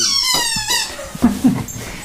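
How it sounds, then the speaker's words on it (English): Dogs whine and squeak excitedly as they greet their owner returning home, with high, wavering yelps and soft grunts close by. "The good dogs are going mad."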